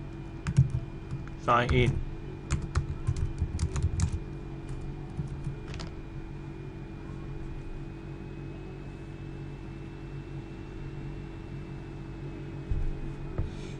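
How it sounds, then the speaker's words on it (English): Typing on a computer keyboard, close, quick bursts of key clicks in the first few seconds over a steady background hum, then a long quiet stretch with one final light tap, with brief speech early on. "So now we type"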